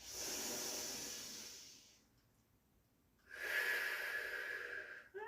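Two long, hissing breaths during a standing Pilates workout, one drawn-out exhale followed by a pause and then another forceful breath, close and clear with no talking.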